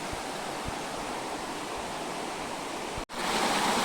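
River water rushes in beside a fallen fig tree in Konkan hill country, a steady, broad hiss of flowing water heard close and alone, briefly cut off by a sharp dropout before resuming slightly louder.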